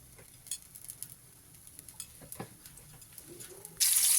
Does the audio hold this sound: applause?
no